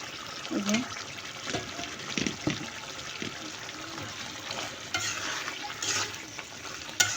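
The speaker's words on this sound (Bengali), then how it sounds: "টমেটো দিয়ে আর একটু ভালো করে কষিয়ে নিব" Meat and tomatoes frying in a pan give a wet sizzle, with a spoon scraping and stirring in uneven strokes, close by, and a voice briefly speaking over it.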